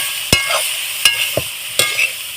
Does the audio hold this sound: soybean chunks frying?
yes